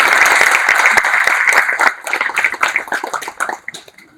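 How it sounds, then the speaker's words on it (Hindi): Audience applause at a financial advisory seminar, dense and steady clapping that thins after about two seconds into scattered, uneven claps before fading. "इनके लिए ताली बनती है।"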